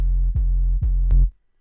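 A distorted, glitchy kick drum in an EDM style hits three times in quick succession, each thump booming and dropping in pitch with a gritty buzzing tail, then cuts off abruptly.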